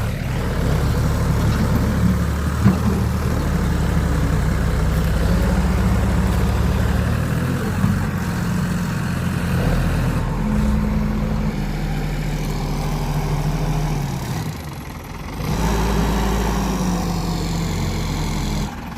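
A JCB excavator and a tractor run together, their heavy diesel engines idling and revving steadily at close range, with a dip in the engine noise near the end before it picks back up.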